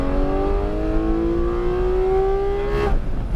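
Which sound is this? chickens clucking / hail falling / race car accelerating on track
race car accelerating on track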